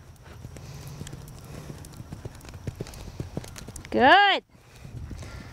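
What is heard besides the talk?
horse hooves clip-clopping while ridden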